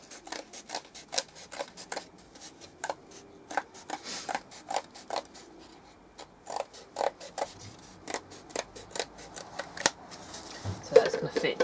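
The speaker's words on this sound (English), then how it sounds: "So I've cut my circles close enough, I'll just trim them round." Scissors trim cardboard circles round, making a run of crisp, irregular snipping cuts at close range over quiet room tone, some coming in quick bursts and others spaced apart.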